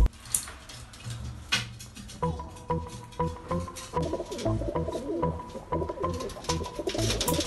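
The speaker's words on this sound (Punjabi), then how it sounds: "ਕਬੂਤਰ ਵੱਡੇ" Old pigeons kept by fanciers coo in soft, repeated low phrases that form a steady pulsing rhythm close by, with some rustling and faint background noise.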